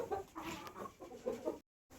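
Hens in a village poultry shed cluck in short bursts as they settle onto their perches in the evening, heard close and moderately loud, with a brief silent gap near the end.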